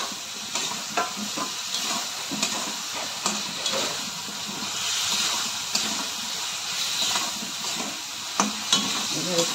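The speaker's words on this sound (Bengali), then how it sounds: "এবার একটু ভালো করে নেড়ে চেড়ে কষিয়ে দিব" Fried flat beans and potatoes are stirred into spiced masala in a pan, with a continuous sizzle broken by repeated scraping and clinking of the spatula at an irregular pace.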